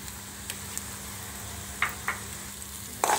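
Onion frying in oil in a kadai for a shrimp bhuna, a soft steady sizzle with a few sharp clicks and taps from utensils scattered through it, no talking.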